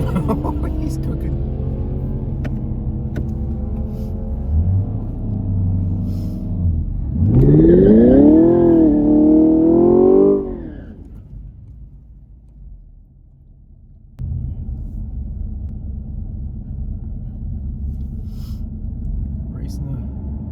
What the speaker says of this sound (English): Racing the older Camaro.